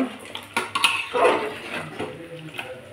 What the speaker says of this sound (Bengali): এবার একটু ভালো করে কষিয়ে নিচ্ছি